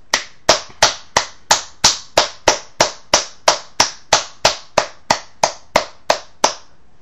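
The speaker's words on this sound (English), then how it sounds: "I'd like to give James Rynkiewicz a round of applause" Steady, evenly spaced hand claps, about twenty sharp slaps in a regular rhythm, loud and close, with no other sound.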